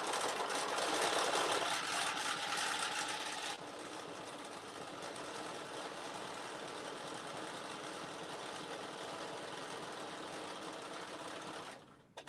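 A sewing machine fitted with a ballpoint needle stitches a quilted zipper pouch, running continuously up close with a rapid mechanical whir that eases slightly partway through, then stops at the end.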